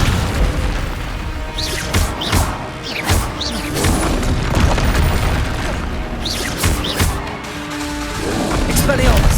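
Spell impacts in Hogwarts Legacy, including a Descendo slam, come as repeated heavy booms and crashes in close succession over loud combat noise, with voices calling out during the fight.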